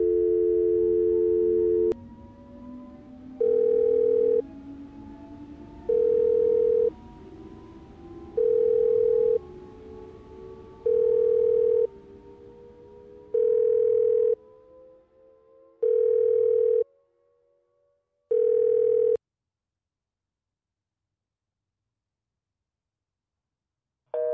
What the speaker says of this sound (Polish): Spróbujemy przez telefon zadzwonić do Dąbrowy.